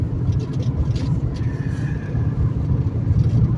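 A car rolling along a road, heard from inside as a steady low engine and road rumble with tire noise, continuous and fairly loud throughout.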